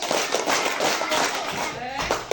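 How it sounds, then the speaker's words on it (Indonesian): Children at an Indonesian elementary school clap along during a religious holiday commemoration, with repeated clap bursts under an adult voice calling out counts. "tepuk 1 kali, tepuk 2 kali, tepuk 3 kali, tepuk 4 kali,"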